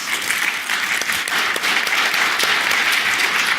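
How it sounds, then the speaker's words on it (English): Loud, steady audience applause for presenters at a cloud technology conference session, a dense wash of many hands clapping continuously throughout. "Let's give them a round of applause."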